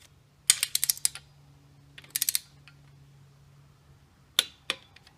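Ratchet wrench tightening the 8mm cylinder head bolts to 21 foot-pounds on a 1985–1986 Honda ATC250R, heard as quick bursts of clicking pawl strokes, close and clear, separated by pauses, with a faint steady hum underneath.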